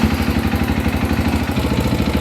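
A supermoto motorcycle engine runs close by at a steady, loud idle, with an even low pulsing throb and no voices.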